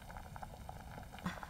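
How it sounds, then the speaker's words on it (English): Water boiling in a pot or kettle in a rural household, a steady low bubbling rumble with soft irregular pops, fairly quiet and continuous, one slightly louder burst near the end. "The water is boiling."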